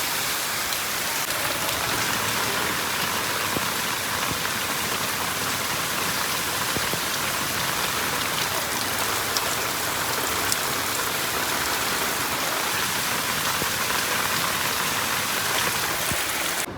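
Steady, dense rain falls alone on a surface for the whole stretch, a loud, even hiss with scattered drop patters and no voices, near and continuous without a pause.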